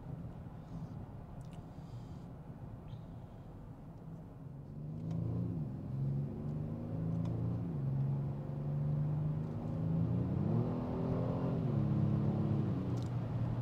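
A 2023 Kia Stinger GT accelerating at night, its engine note rising from a low rumble into a loud, building rev with clear pitch climbs and shifts, heard from inside the car with no talking.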